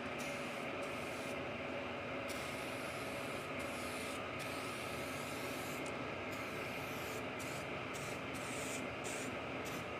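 A spray gun applies paint to a walleye taxidermy mount, giving a steady, close, unbroken hiss of airflow and atomized paint that runs the whole time without any voices.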